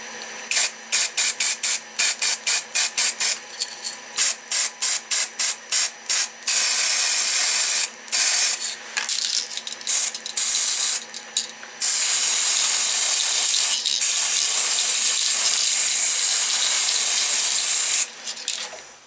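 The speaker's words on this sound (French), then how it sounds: "c'est une bombe de peinture que j'ai trouvée en magasin de bricolage" An aerosol spray paint can hisses loudly up close while coating a wooden tree on a slowly turning lathe, first in a rapid run of short bursts, then in longer continuous sprays.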